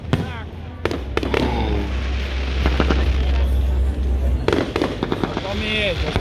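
Fireworks bursting over a lakeside island festival at Krakow am See, sharp bangs and crackles repeating through a steady crowd murmur, with people talking nearby.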